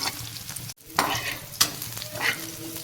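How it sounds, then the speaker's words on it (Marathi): Cumin, mustard seeds, green chili and onion fry in hot oil with a steady sizzle, broken by a brief dropout and a few scraping stirs. "मस्त जिरं मोहरी हिरवी मिरची कांदा मस्त असं फ्राय करून घ्यायचे"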